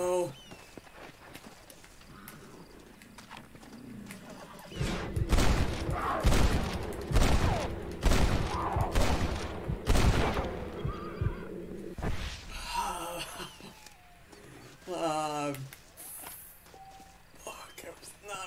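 A horse in Red Dead Redemption whinnies and snorts as a burst of loud gunfire-like cracks and scuffling hooves erupts, followed by further sharp game noises and a distressed horse cry, with a man exclaiming over it.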